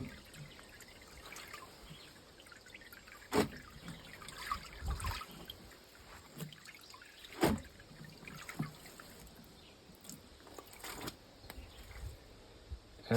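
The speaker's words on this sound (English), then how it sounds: "it's just simply draining a lot of the water back now" Water drains from a LAVARIO off-grid washing machine, a quiet steady trickle and dribble with occasional louder splashes and knocks, faint birdsong outdoors in the background.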